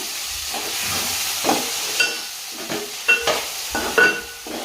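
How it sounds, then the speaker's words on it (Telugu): Steady sizzling of onions and tomatoes frying in a pan, with occasional stirring scrapes and clinks over the hiss. "ఆనియన్స్ మంచిగా ఫ్రై అయిన తర్వాత టమాటోస్ అయితే వేసేసుకుందాం"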